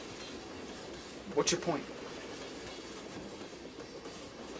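A passenger train rolls along its rails with a steady low rumble and faint clatter, while a person speaks briefly partway through.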